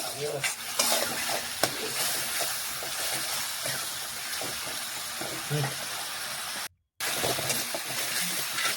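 A spice masala with salt and a splash of water is stirred in a hot pan. The sizzling and scraping are close and continuous, with one brief cut to silence near the end.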